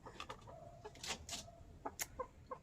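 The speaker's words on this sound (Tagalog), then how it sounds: "At saka ayun naman yung tandang eh, tagapagtanggol niya." A rooster clucks in short, scattered calls outdoors near a riverside rural spot, soft and somewhat distant over faint background noise.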